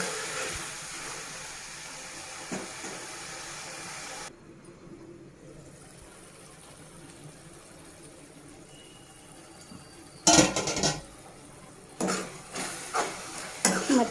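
Tomato curry simmers and sizzles in a pan, a soft steady bubbling that gives way to louder stirring scrapes and clatter toward the end.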